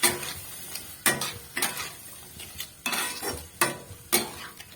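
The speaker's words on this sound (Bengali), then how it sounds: "কিছুক্ষণ এটাকে একটু কষিয়ে নেব।" Peas and vegetables sautéing in masala with a splash of water in a pan, a spatula scraping in repeated broadband strokes over a low steady sizzle, close and fairly loud, with no talk.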